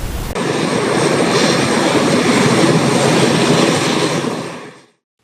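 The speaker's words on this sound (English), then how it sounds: "its first flight taxied across the runway of the Robert L. Bradshaw International Airport in St. Kitts and Nevis" A Caribbean Airlines airliner taxis on its inaugural flight at Robert L. Bradshaw International Airport in St. Kitts and Nevis. Loud, steady engine roar holds throughout, then cuts off abruptly at the end.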